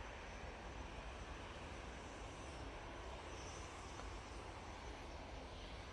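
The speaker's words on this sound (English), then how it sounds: "Ryanair on final now." A Ryanair airliner on final approach at Manchester Airport drones steadily as a faint, distant, even jet hum, with no talking.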